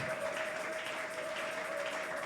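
A church congregation applauding and cheering in praise of the Lord, a continuous rush of clapping that stays fairly even and moderately quiet throughout.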